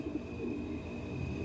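Low, soft pigeon cooing murmurs steadily through the clip, a muffled warbling drone close by with a faint steady hum behind it.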